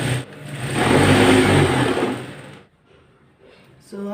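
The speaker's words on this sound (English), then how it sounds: "So having finished sewing the neckline, the sides, and the downside too." A sewing machine stitching the side seams of an A-line baby dress: a loud, close mechanical whir running for about two seconds and then stopping, followed by quiet handling noises and a brief restart at the end.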